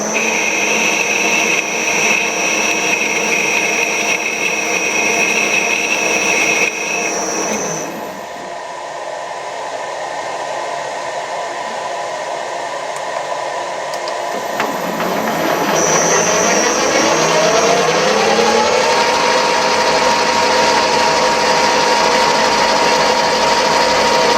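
A power tool drives a cutter along a workpiece to cut a screw thread, a loud, steady high whine that dips into a lower rumble midway and then rises again.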